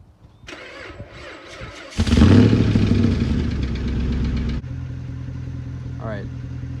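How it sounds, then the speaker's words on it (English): A pickup truck engine cold-starts just below freezing: a cranking whir catches into a loud roar, then settles to a steady idle, with a brief squeal near the end. "Let's see how she cold starts."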